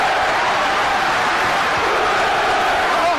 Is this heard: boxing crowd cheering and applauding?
yes